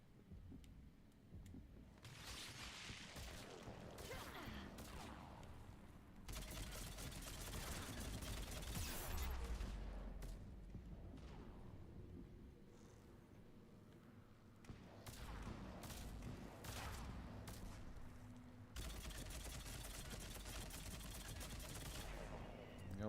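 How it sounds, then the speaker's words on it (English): Rapid bursts of gunfire from Mass Effect 3 crack out in several separated volleys across a busy battle, with a voice talking between and over the shots. "Who's shooting me?"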